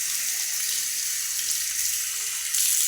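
Tap water pours steadily into a sink while someone washes their hands at home, a close, constant hiss that grows slightly louder near the end, with no voices.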